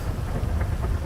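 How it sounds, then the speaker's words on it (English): Rain from a thunderstorm in the video game GTA 5 gives a brief, dense patter with low thunder rumble beneath it, steady and fairly loud, with no voices. "It's creepy with the thunderstorm, man."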